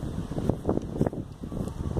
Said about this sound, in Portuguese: Tem um vento aqui, um vento legal.